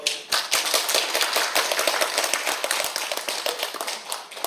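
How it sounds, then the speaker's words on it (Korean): An audience at a policy forum on redeveloping first-generation new towns applauds as a speaker finishes, with a dense, close run of sharp claps that keeps steady throughout and no speech over it. "박수 나올 만하죠?"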